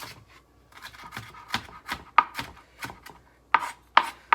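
A knife chops garlic into small pieces on a cutting board, producing irregular, close, sharp taps that grow louder and quicker toward the end.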